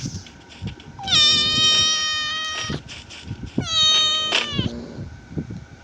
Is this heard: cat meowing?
yes